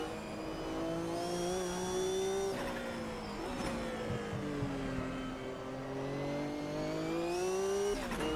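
A Group C race car engine in the game Automobilista 2 drones and revs steadily, pitch rising and dropping through gear shifts, with a synthetic, game-like tone and no talking.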